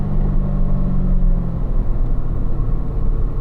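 A Corvette engine rumbles loudly and steadily on a track during a performance driving school lap, a deep continuous drone close by with the pitch shifting slightly as it accelerates.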